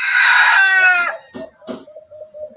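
A rooster crows loudly and close by in one long rising call, followed by a few softer clucks and low chirps.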